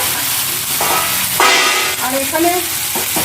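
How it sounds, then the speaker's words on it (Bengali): Chicken pieces frying in white oil in a kadai wok, a steady loud sizzle with scraping stirs throughout, and someone briefly speaking over it. "এটা এখন ভেজে নিচ্ছি হালকা করেই ভাজবো"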